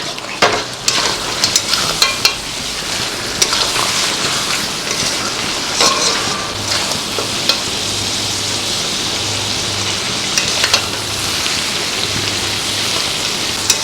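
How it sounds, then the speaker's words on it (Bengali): Mutton sautéing in oil in a pan, a loud sustained sizzle broken by repeated scraping and clattering strokes of a spoon stirring the meat, no speech. "মটনটা দিয়েও খানিকক্ষণ কষাবো"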